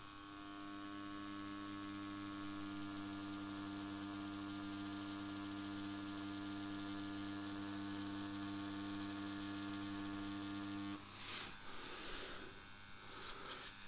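A rotary tattoo machine running with a Peach needle cartridge, a steady close electric hum and buzz holding level, then turning rougher and more uneven near the end.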